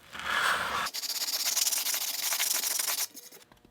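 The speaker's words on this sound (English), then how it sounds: "This is a sanding block with 180 grit sandpaper, so pretty fine." A short rubbing pass, then a sanding block with 180-grit sandpaper scrapes back and forth in quick rhythmic strokes on a surface, close up, stopping abruptly near the end.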